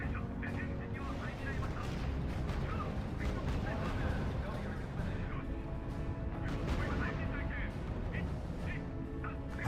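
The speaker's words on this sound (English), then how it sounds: "Unit reports heavy fire." Heavy gunfire and artillery rumble in the RUSE strategy game, dense booming and cracking bursts running continuously near and loud, with radio-style voice reports over the battle noise.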